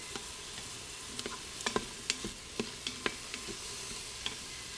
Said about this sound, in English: I do onions on medium with a little olive oil.